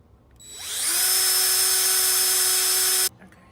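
A power drill whirs up and runs steadily for about two seconds before cutting off sharply, driving screws during a greenhouse build, with close, loud, continuous motor whine and no talking.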